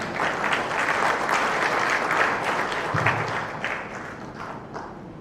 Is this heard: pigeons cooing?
no